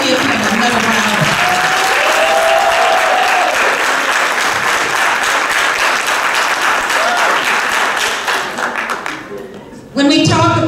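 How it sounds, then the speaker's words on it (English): A congregation at a church Black History program applauds loudly and steadily for about nine seconds, the clapping thinning out near the end before a voice speaks. "Please give him another round of applause"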